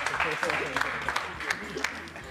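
Studio audience at a Portuguese chant contest applauds a contestant, a short burst of moderate clapping under a speaking voice and laughter.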